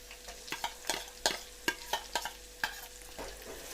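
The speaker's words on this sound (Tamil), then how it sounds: "இப்போ நம்ம அரைச்சி வச்ச விழுதை இதில் போட்டுக்கலாம்." Ground paste for pirandai kuzhambu stirred in a hot pan, a soft low sizzle broken by about a dozen sharp scraping strokes of a spoon at an uneven pace, close by with no voices.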